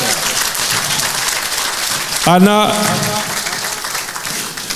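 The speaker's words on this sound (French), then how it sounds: "je vous demande d'applaudir plus fort que ça encore" Gala dinner audience applauding as a speaker is introduced, a steady wash of clapping throughout with a voice calling out briefly over it in the middle.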